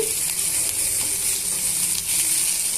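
Sliced okra (bendakaya) frying in a pan, a loud continuous sizzle filling the whole stretch with faint stirring clicks underneath and no voices.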